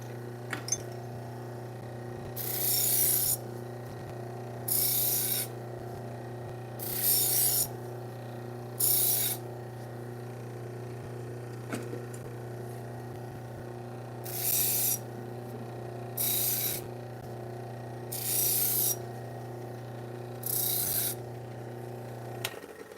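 A knife sharpening machine hones a butcher block set of kitchen knives, giving repeated rasping grinds in two groups of four strokes over a steady motor hum, fairly close and loud.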